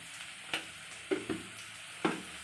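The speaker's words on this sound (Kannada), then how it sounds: "ಇದು ಒಂದು ನಿಮಿಷ ಚೆನ್ನಾಗಿ ಫ್ರೈ ಮಾಡ್ತೀನಿ" Onions, greens, beans and a little salt frying quietly in a pan, a low sizzle with a few distinct stirring taps spaced apart, nearby and unaccompanied by speech.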